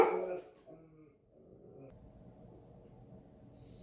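A female dog indoors gives a short burst of loud barking at someone near the house, followed by quiet room noise.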